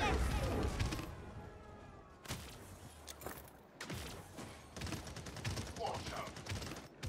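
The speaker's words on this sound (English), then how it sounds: "Barrage incoming!" A gunfire barrage rattles through a video game in rapid bursts with sharp bangs, busy and layered, heard at a fairly low level with game sounds around it.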